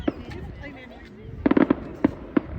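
Fireworks go off outdoors in a quick burst of sharp cracks and pops, with a couple more isolated bangs after, loud and fairly close, over a low background rumble and some voices.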